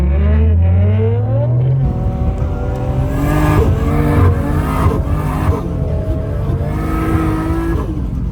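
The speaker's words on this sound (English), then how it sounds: "how good they sound already while idling" Nissan R32 and R34 GTR engines rumble loudly up close in an Arctic setting, their deep idle shifting through revs and overlapping tones as the two cars run together.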